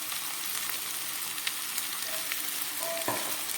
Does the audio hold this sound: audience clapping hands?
no